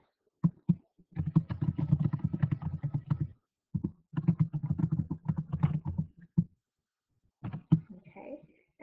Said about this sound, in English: Here I'm going to type my question.